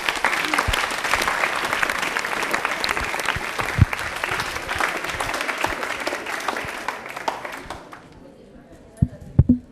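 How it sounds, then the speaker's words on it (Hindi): Strong, dense applause from a studio audience at a railway-themed quiz show, sustained and close for about eight seconds, then fading to quiet with a few stray bumps. "ताली बजा दीजिए इनके लिए जोरदार वाली।"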